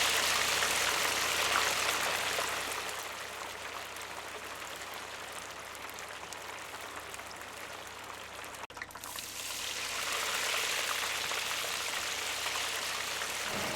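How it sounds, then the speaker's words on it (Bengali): Fish fry in hot oil in a pan or karai, giving a steady, dense sizzle that holds throughout, dips a little in the middle and swells again, with no voices. "এখন মাছগুলোকে ভালো করে ভেজে নেব।"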